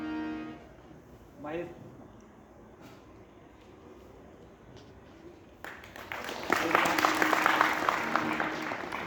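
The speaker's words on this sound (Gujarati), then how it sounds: "જોરદાર તાળીઓથી આપણે વધાવીએ" Loud applause from an audience at a religious katha welcome ceremony greets a banjo player. The applause breaks out after a stretch of speech and carries on dense and steady to the end.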